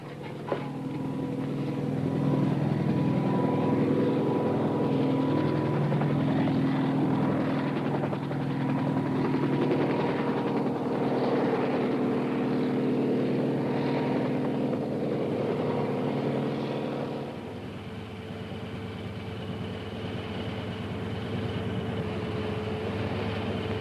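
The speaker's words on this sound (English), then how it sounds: "The whirlybird's coming in, sir." A helicopter comes in during a 1956 war film, its heavy rotor and engine roar loud and continuous for most of the stretch before dropping to a lower, steadier drone near the end.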